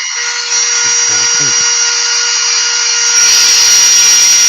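A wood lathe runs steadily throughout as a continuous high whirring with a constant tone, growing slightly louder near the end, with a brief voice heard faintly beneath it.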